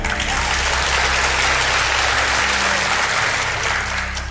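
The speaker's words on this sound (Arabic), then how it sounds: "الغريب ان الجمهور بيسقف لك" A studio audience at a university quiz show claps in a dense, sustained burst of applause, loud and even throughout with no pauses.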